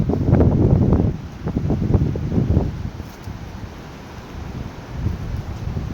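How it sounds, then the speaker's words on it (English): Strong wind blows outdoors at a campsite among swaying trees, buffeting the microphone in heavy rumbling gusts that ease into a lower, steady rush, close and loud with no talking. "A lot of wind today."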